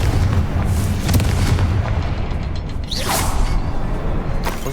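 Confringo fire spell blasts in the video game Hogwarts Legacy: a dense run of booming explosions with whooshing swishes and crackling bursts, loud and continuous, with no talking.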